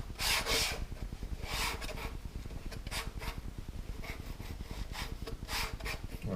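Palette knife scraping wet oil paint across canvas during a seascape painting, close rhythmic rubbing strokes repeating every second or so with a soft gritty texture, fairly quiet and without talk.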